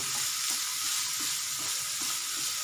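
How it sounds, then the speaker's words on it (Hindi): Chopped onion, carrot and capsicum fry in a hot pan, giving a steady, close sizzle with faint stirring scrapes throughout and no voices. "अभी हम प्याज डाल देते हैं, गाजर भी डाल देंगे और शिमला मिर्च भी साथ ही डाल देते हैं, और 2 मिनट के लिए हम इसको पकाएंगे।"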